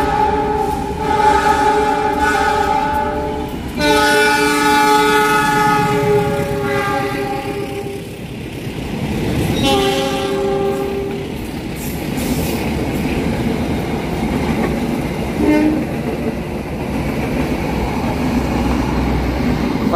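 The Argo Parahyangan train passes straight through Padalarang station, sounding long, loud horn blasts in several bursts over the rumble of rolling railcars and squealing wheels.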